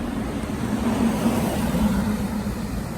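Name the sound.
cars going by on city streets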